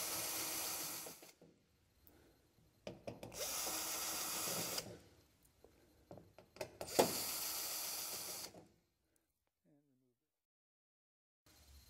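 Short bursts of a power screwdriver whirring as it backs screws out of an Epson SureLab D3000 printer, three loud runs separated by pauses with small clicks and handling noises, then near silence.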